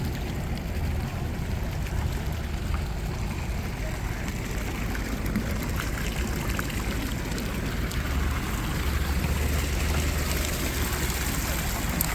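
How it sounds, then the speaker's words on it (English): A shopping mall fountain's small waterfall fills the scene with steady rushing, splashing water, a broad trickling wash with a low rumble underneath and no pauses. "You got yourself a little waterfall over here."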